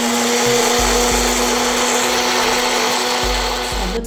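An electric kitchen grinder whirs loudly as it pulverizes whole dried red chilies, its motor whining with a few quick pulses and rattles before cutting off abruptly at the end.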